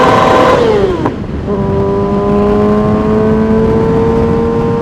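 Kawasaki ZX6-R 636 sport bike with an aftermarket exhaust, engine revs falling then settling into a steady high drone, loud and close with wind rush over the top.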